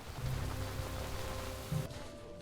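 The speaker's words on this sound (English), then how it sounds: "now it's raining" Rain falls in the role-playing video game Stoneshard, a steady, soft hiss of downpour layered with faint low rumbles and occasional thuds that continues without talk.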